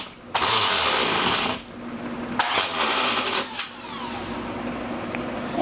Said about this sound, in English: Only nutcase will use this rotary hammer to put screws in.